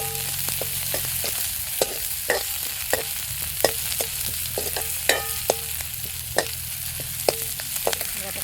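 Finely chopped onion sautés in a pan for dal batti: a steady close sizzle runs throughout, with regular sharp clicks from a spatula stirring and scraping.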